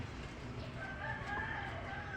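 A rooster crows faintly at a distance over a low background rumble, one drawn-out call in an outdoor yard with no talk.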